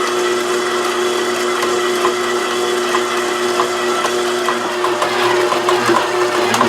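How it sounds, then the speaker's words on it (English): A machine kneads sourdough pita bread dough, producing a loud, steady mechanical whir with a constant hum and faint irregular knocks throughout. "I'm going to let it knead for 5 minutes."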